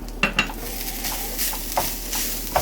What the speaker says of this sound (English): You need to cook for about 4 to 5 minutes until the coconut turns to a slight golden brown.